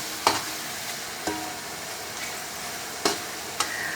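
Chopped tomatoes fry in a pot of oil for Eid beef yakhni pulao, a steady close sizzle punctuated by a few sharp spoon scrapes and taps as they are stirred.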